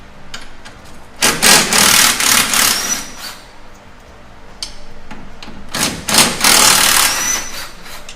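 An impact wrench rattles in several loud bursts, close up, as it removes motor mount bolts on a Polaris RZR 1000 side-by-side, with quieter pauses between the hammering runs.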